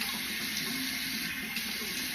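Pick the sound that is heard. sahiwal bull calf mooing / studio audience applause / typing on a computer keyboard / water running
water running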